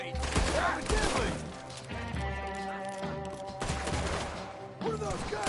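Gunfire in Red Dead Redemption 2 gameplay: a few sharp, loud shots at uneven intervals, mixed with a dense musical score and brief voices.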